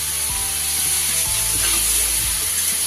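Malabar spinach stalks frying with vegetables in a pan, giving a steady close-up sizzle with soft scraping and stirring sounds throughout.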